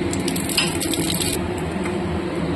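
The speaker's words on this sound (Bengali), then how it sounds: "এবার দিয়ে দিচ্ছি 5 ফোড়ন" Panch phoron and radhuni spices sizzle in hot oil in a kadai, a dense, continuous sizzle with fine crackles and occasional light clinks of a utensil against the pan.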